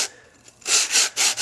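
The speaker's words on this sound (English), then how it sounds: "You take a piece of pipe, a piece of pipe, stick the sandpaper onto it, form it around, and you can simply put it inside of your pipe" Sandpaper wrapped around a length of pipe rubs inside the bore of a 2-inch dump valve body: a faint scrape, then three loud, close, rhythmic abrasive strokes, with no talking.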